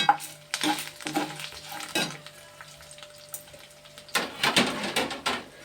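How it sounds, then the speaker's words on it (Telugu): Tempering spices for gongura chutney crackle in hot oil, with stirring and scraping in the pan coming in irregular bursts, close and fairly quiet, with no talking. "పోపులు వేసేస్తున్నాను అన్నీని దీంట్లోని"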